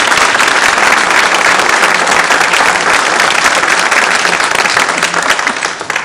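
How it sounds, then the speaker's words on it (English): Loud, sustained applause from an audience at a mayoral candidate forum in Galveston, dense clapping filling the room for about six seconds before starting to taper at the end. "Let's give them a round of applause."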